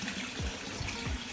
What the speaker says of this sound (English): Whenever the water gets here, instead of it to continue filling up the pond, it just goes out through these holes.